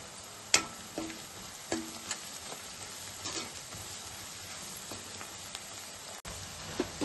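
Sliced onions with a spoonful of salt cook in oil under a lid in a pan, making a soft continuous sizzle broken by a few sharp clicks and light knocks.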